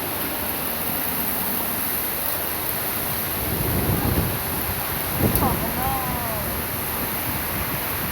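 Heavy rain driven by strong wind makes a dense, unbroken roar of hiss and gusting rush, with a voice speaking briefly partway through.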